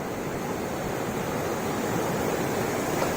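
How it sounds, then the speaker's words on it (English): Ocean surf rolling onto a sunny beach in Goa, a steady broadband wash of breaking waves close by, continuous and fairly loud with light wind noise and no voices. "look at the sound of the ocean"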